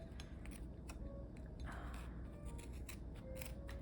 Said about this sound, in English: these scissors are not the best.